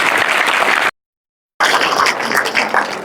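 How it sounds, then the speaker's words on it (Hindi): Loud applause from a seminar audience, dense continuous clapping that cuts out abruptly for a moment of silence, then resumes just as full. "एक बार जोरदार तालियां हो जाए।"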